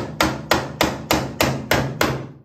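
Seven crisp hammer blows drive fittings into a corner desk during flat-pack assembly, struck at a steady, even pace close by, with no voices.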